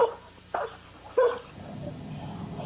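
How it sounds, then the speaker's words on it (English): A dog gives two or three short, fairly soft barks or yips close by, each brief and separated by pauses, over a low background hum. "what was I going to do about James's loud bark?"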